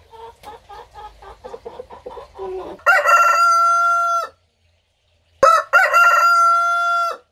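A Light Brahma rooster crows loudly and close by in two long calls separated by a pause, preceded by a run of short, rhythmic clucks from hens.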